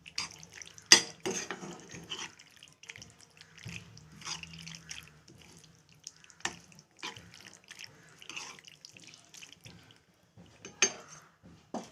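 Macaroni being stirred in a pot of boiling water, with irregular faint clinks and scrapes of a utensil against the pot over a soft watery background.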